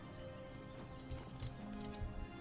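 Horse hooves clip-clop at a steady walking rhythm in Oblivion Remastered, close and fairly quiet over a constant low hum of game ambience.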